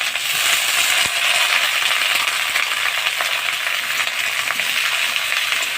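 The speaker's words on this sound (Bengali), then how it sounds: "ঝিঙেগুলো হালকা একটু না ভেজে নেবে।" Ridge gourd frying in hot oil in a pan, giving a loud, dense, continuous sizzle with a few faint clicks, close and without talk.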